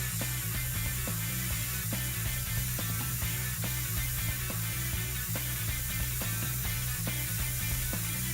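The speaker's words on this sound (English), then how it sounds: "trying to spray the top without spraying too much of the rest of the model" A Harder and Steenbeck airbrush spraying paint on a Warhammer 40k miniature: a steady airy hiss over a constant low hum, with faint regular ticking running through, close and even throughout.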